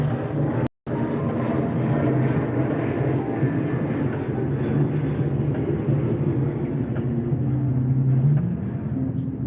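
An airplane passes overhead, producing a loud, steady, broad rumbling roar that fills the whole stretch with little change in level.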